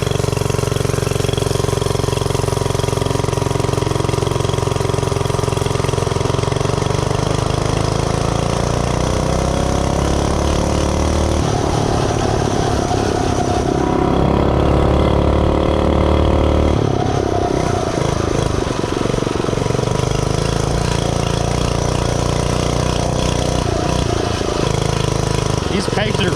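Small Predator 79cc single-cylinder engine on a Mega Moto 80 minibike runs steadily, with shifting revs as the bike is ridden, and a person talks over it throughout.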